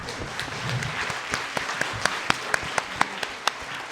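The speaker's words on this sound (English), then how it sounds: "please join me in giving a huge round of applause to all" Audience applause at a school mental health panel, a soft, diffuse patter of many hands with a few sharper nearby claps standing out, heard at moderate distance in a room.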